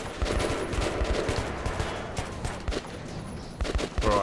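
Rapid bursts of gunfire from Metro 2033 Redux ring out close and loud, a dense stream of sharp shots with brief gaps and a final cluster of heavier bangs.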